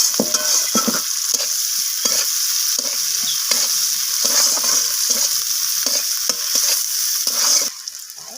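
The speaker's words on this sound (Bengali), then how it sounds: "আমি পেঁয়াজটাকে একটু লালচে রং ধরা পর্যন্ত পেঁয়াজটাকে একটু ভেজে নিচ্ছি।" Chopped onions frying in a pan for a fish-head chorchori, a loud continuous sizzle with repeated scraping strokes of a spatula stirring, no talking.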